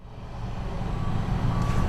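Heavy trucks working a gravel haul road at a creek construction zone, a steady low engine rumble with a faint thin reversing beep tone running through it, continuous and fairly close, no talk.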